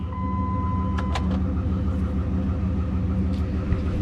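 A high-mileage 2009 Hemi Ram 1500 2WD pickup engine runs at a steady, close idle rumble, with a brief electronic tone and a few light clicks early on. No one speaks.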